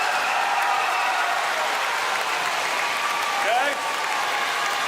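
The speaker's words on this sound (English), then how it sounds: "I want to hear for all of these people an East Side round of applause." Elementary school audience at a gathering breaks into loud, sustained applause and cheering, a dense wash of clapping that carries on for about five seconds.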